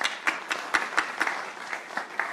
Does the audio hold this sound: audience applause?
yes